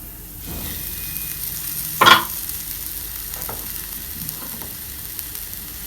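Semolina and boiled potatoes fry in a pan with a steady low sizzle, broken by a loud scrape of stirring near the two-second mark and a few softer stirring knocks afterward. No one speaks.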